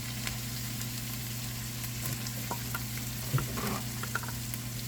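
Ground beef with taco seasoning and tomato sauce sizzles quietly in a pan under a low steady hum. A few faint stirring scrapes come through near the end.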